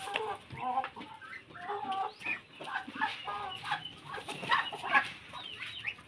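A small backyard flock of chickens clucking and squawking as they gather for feeding, continuous overlapping calls close by, no talking.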